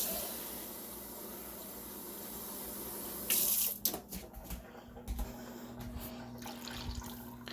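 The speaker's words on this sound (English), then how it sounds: "I'm just going to throw in some water." Water runs from a kitchen tap into a pan of bacon-roux breakfast gravy, a steady hissing stream for several seconds, then broken splashing and clatter as the flow stops.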